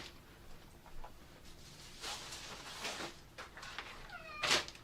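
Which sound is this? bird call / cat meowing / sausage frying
cat meowing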